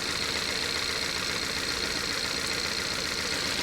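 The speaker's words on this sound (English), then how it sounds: "the engine is changing in sound. It almost feels like it's misfiring a little bit more" A car engine runs steadily with a slight misfire, a dense, continuous rumble that stays loud and even throughout with no voices over it.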